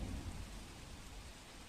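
Heavy monsoon rain in South Gujarat pours steadily in a dense, constant hiss with a low rumble underneath, no voices.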